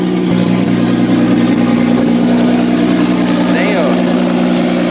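A small turbocharged car engine idles with a steady low hum throughout, coolant sprayed over the engine bay, while people talk nearby and a voice rises briefly near the end.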